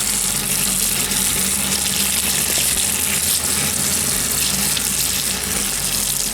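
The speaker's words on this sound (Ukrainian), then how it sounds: "Далі грибочки треба ретельно помити." A steady, loud rush of running tap water splashing into a sink while oyster mushrooms are washed, continuous throughout, with faint handling under the flow.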